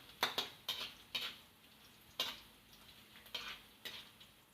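Onions stirred and fried in a pan for pancit canton, with sharp scrapes and clinks of a utensil against the pan recurring at uneven intervals over a faint sizzle, close and fairly quiet.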